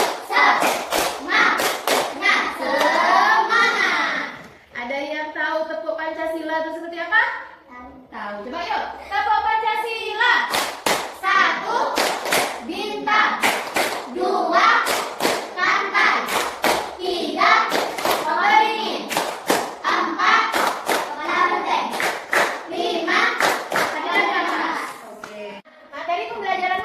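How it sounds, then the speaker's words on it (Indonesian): A group of schoolchildren does rhythmic tepuk semangat clapping in a classroom, sharp claps in quick patterned bursts alternating with chanted and spoken children's voices throughout. "Mari kita lakukan tepuk semangat biar lebih bersemangat."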